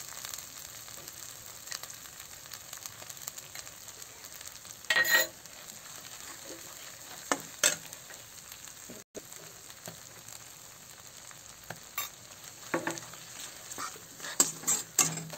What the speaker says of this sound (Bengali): আদা জিরা ভাজা হয়ে গেছে